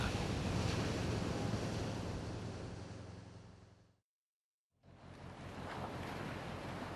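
Sea waves surge and crash under strong wind on open water aboard a winter cod-fishing boat during a gale warning, loud and continuous with rushing wind noise, briefly cutting to silence before the surf and wind return.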